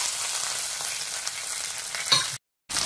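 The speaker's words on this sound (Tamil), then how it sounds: "கடுகு பொரிஞ்சோடனே கருவேப்பிலை, காஞ்ச மிளகாய் அது கொஞ்சம் வதக்கட்டும்" Mustard seeds, curry leaves and dried chillies fry in hot oil with a dense, close crackling sizzle, a brief stir-like bump near the end before a short dropout.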